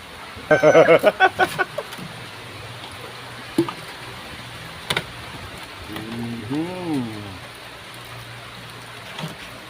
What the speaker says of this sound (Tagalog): At inaampot na tayo ng ulan na naman